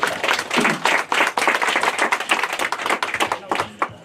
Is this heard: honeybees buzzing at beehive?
no